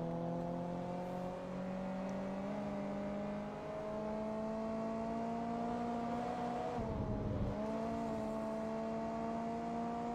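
Mazda RX-7 rotary engine in the Forza Motorsport 2 racing game, a steady idling hum with layered harmonic tones, holding near-constant pitch and dipping briefly once midway before settling back, with no talk.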